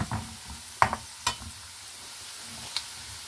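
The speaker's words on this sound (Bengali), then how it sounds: "কালো জিরা আর পেঁয়াজ দিয়ে হচ্ছে এটা আমি একটু ভেজে নিব হালকা শুটকিটা" Washed dried fish frying lightly in a pan with nigella seeds and onion, a soft low sizzle broken by a few quick clicks and scrapes of a stirring spoon, close and without talk.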